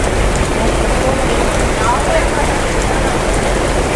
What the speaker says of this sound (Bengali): আর দেখো কত জোরে বৃষ্টি এসেছে